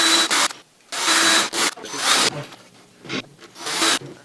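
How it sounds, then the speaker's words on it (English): Drill driving a pilot bit into a wooden frame, harsh grinding bursts separated by short pauses, close and fairly loud. "Take our pilot hole bit and our drill."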